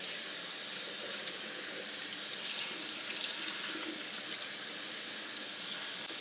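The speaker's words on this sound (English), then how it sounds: "we're just rinsing this out with cool water until the water runs clear" Cool tap water runs steadily over a dyed synthetic wig being rinsed in a sink, a continuous close splashing flow with no talk.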